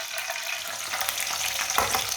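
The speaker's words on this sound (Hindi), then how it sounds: "प्याज को हल्का सा ब्राउन कर लेंगे।" Finely chopped onion fries in a pan with a steady, bright crackling sizzle, close and continuous, with a slight stirring scrape near the end.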